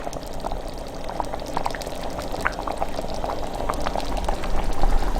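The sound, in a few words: ladling broth into a bowl of flour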